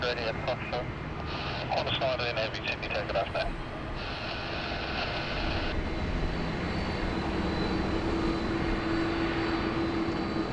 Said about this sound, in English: we've got Qantas flight 19. So she's heading out to Manila